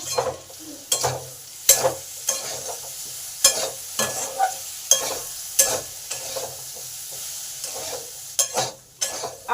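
Potatoes fry in a pan for a vegetarian papaya dish, with a steady sizzle broken by repeated loud scraping strokes of a spatula stirring at close range, no talking.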